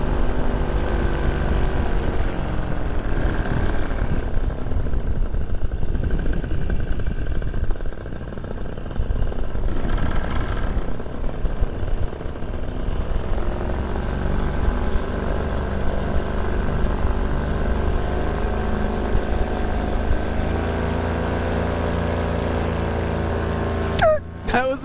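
Mojo Mobile powered trike flying at about 20 mph, a loud, steady engine drone with layered propeller tones that rise and fall slightly, ending in a brief rattle.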